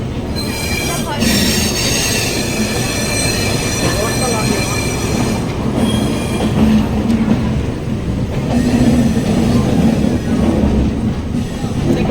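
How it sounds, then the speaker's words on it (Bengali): A passenger train pulling out of Howrah station in Kolkata, with wheels squealing and a steady rumble of rolling carriages carrying on loudly throughout, faint clickety-clack beneath. "তো হাওড়া থেকে ট্রেন ছেড়ে দিয়েছে।"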